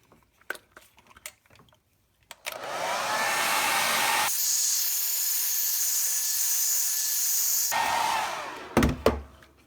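A hot air gun blows continuously for about five seconds, heating a rubber Talon grip on a Glock 19 pistol, a loud steady whoosh bracketed by small clicks and handling taps.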